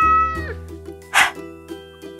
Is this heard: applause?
no